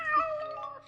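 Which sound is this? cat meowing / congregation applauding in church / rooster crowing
cat meowing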